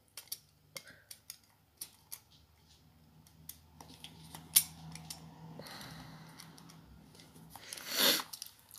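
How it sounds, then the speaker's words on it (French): Scissors snipping a small stick in two: a run of sharp, dry clicks and cuts at an uneven rhythm, close and quiet, ending in a brief rustling burst, with no talk. "à couper en 2 le bâtonnet. Et après, à couper le petit bout."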